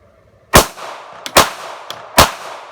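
Three sharp pistol shots, each with a short ringing tail, fired at a range from a Smith & Wesson Shield during a comparison with a Sig Sauer P365 using the same ammunition; loud, close and spaced under a second apart.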